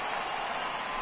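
Crowd noise fills a stadium in the baseball game MLB The Show 18 as fans rise for a full count, a steady wash of cheering and clapping with no breaks, moderately loud and broad.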